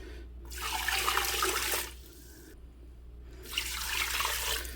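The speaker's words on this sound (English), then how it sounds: "So all the chicken legs, I'm going to cover it in some water." Water pours into a pot of chicken legs in two steady rushing bursts of about a second and a half each, separated by a short pause, close and fairly loud with no talking.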